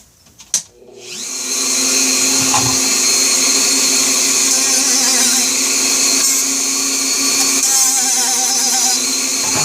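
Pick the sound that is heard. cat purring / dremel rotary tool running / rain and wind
dremel rotary tool running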